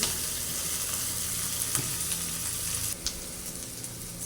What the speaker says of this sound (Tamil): அப்போ நான் வெங்காயம் கொஞ்சம் வதங்கட்டும்